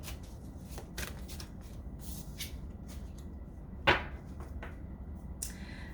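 Tarot cards being shuffled for a reading, producing soft repeated riffling and flicking bursts at irregular intervals, with one sharper, louder snap of the deck near the end, close and quiet with no talking.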